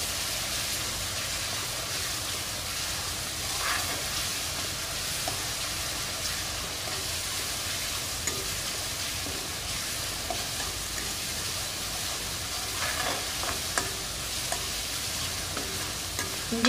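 Ginger garlic paste sautés in a pan for a Kerala-style dry pepper chicken, giving a steady, close frying hiss throughout with occasional faint stirring clicks and no talk.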